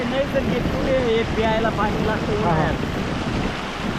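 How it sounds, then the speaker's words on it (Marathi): Steady rushing river water roars continuously throughout, loud and close, a fast current at Ganesh Kund near Patnadevi, Chalisgaon, with faint voices partly buried beneath it. "हा पाण्याचा प्रवाह बघा किती जोरात वाहतोय"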